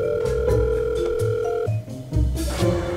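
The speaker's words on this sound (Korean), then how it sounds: "오리온한테 전화해봐야겠다." An outgoing video call on a phone plays its ringing tone, a loud steady electronic tone pattern with sustained pitched notes that shift partway through, close and alone without speech.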